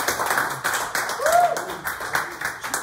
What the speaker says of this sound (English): Give Joey a round of applause.